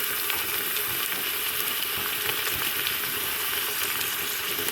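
Crushed onion fries in a pan with a soft, continuous sizzle and faint crackle, steady and fairly quiet throughout with no talking.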